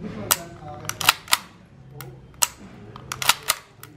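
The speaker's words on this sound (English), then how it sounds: "I'm just gonna function check it to make sure I haven't broken it. okay, dry firing." An HK MP5 9mm submachine gun is dry-fired and handled during a function check, giving sharp metallic clicks and snaps scattered irregularly, close and crisp, with a few doubled clicks.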